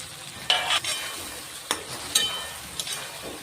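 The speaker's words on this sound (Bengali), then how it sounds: "এবার আলু পটলগুলো দিয়ে দিলাম" Potatoes and pointed gourd added to a pan with spices for alu potoler dum, giving several short bursts of sizzling and stirring at close range, each flaring and fading over a quiet background.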